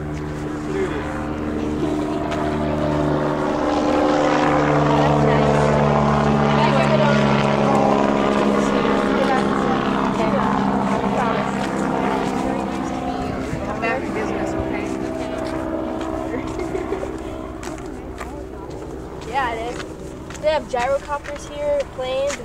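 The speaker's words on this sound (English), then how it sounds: "Gyrocopters here, planes, it's nice." A gyrocopter or small plane drones overhead with a steady propeller hum that swells and slowly fades, heard continuously while people talk nearby.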